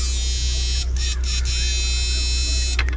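A power inverter running under a 4000 watt load gives off a steady, loud electrical buzz with a constant hum and high whine throughout, with a few brief clicks or bursts and a voice speaking over it.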